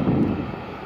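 A Southwest airliner on approach into Boston makes a steady, low broadband rumble with wind noise over the microphone, continuous and fairly loud through the whole second.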